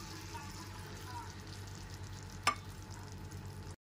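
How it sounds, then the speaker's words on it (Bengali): Chilli and coriander powder paste frying with a little water in a pan over a low-to-medium gas flame, a steady soft sizzle with one brief sharp clink partway through. "গ্যাসের ফ্লেমটা লো টু মিডিয়ামে রেখে মশলাটা খুব ভালো করে কষিয়ে নিতে হবে।"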